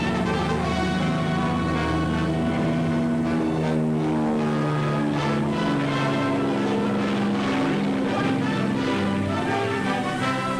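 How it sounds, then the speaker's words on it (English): Propeller-driven enemy warplanes attacking in force, heard on old 16mm film: a loud, sustained engine drone with rising and falling pitch as aircraft pass, alone without narration. "Enemy planes attacking in force."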